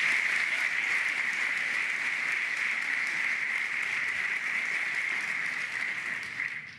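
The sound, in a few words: applause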